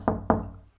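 Two solid knocks on a door in a radio drama, close and resonant, spaced a fraction of a second apart.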